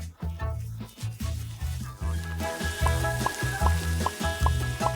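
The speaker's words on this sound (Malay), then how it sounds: "Panaskan minyak dan goreng tortilla yang telah dihiris sehingga keperangan." Sliced tortillas fry in hot oil with a steady crackling sizzle, joined by rhythmic clacking and scraping from stirring or handling nearby.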